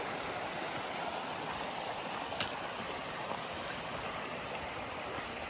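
A stream flows across the Appalachian Trail, a steady, close rushing of water with a constant broadband wash and no voices.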